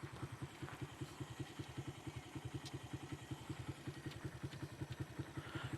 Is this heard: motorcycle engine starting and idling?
yes